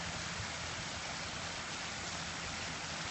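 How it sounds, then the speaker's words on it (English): A pond waterfall with added aeration pours in a steady, dense rushing wash of falling water that stays constant and close throughout, with no voices. "Here's our waterfall area."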